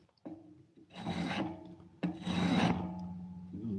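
Wood is shaved by hand, giving two long, close, rasping strokes with a tonal ring, each rising as the blade bites and cuts through the grain.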